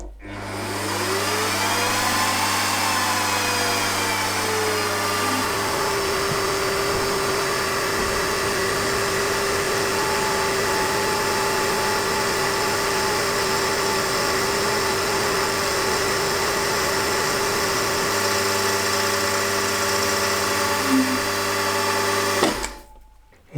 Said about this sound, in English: this is a 3/8 of an inch 2-flute end mill, and this is going to go to a depth of 1/4 of an inch